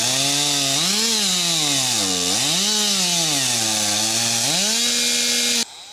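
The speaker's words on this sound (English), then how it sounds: "Singles event chainsaw." A high-tech two-person crosscut chainsaw run by a single competitor at a spring woodsmen's meet, screaming loudly and continuously as its pitch dips and rises with each cut through the log, then cutting off abruptly at the end.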